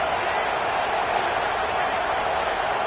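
Stadium crowd at a college football game between Ohio State and Alabama, a steady dense roar of cheering on a big third down, sustained and continuous with no pauses.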